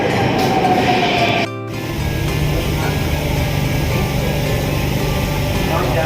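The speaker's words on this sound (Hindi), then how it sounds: "मेट्रो आकर रुक सकते हैं।" A Delhi metro train pulls into a Dwarka-line station with a continuous low rumble and rolling hum, plus a brief squeal and a short drop in noise as it stops. People talk over the train.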